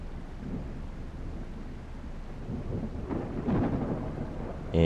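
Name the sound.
thunderstorm with rain in Professional Ship Simulator video game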